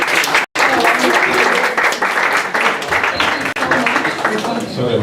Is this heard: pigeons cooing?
no